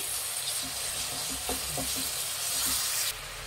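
Chopped tomatoes hiss and sizzle steadily as they fry in a pan with already-fried onion, a continuous broadband steam-like sizzle with a few faint clinks, close and fairly loud, no talking.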